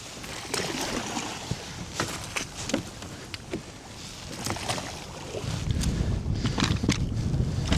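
A kayak is pushed off from a shallow shore with a paddle, giving scraping knocks and splashes under wind noise, with the water sounds growing rougher toward the end.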